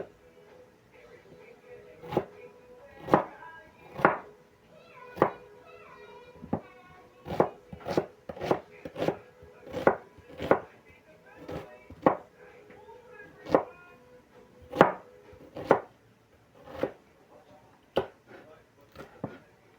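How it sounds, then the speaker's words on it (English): Onions chopped with a knife on a board, a series of sharp irregular knocks, some in quick bursts, fairly close, with faint voices in the background. "Let me chop, let me give my greens another stir, and then I come back to the chopping"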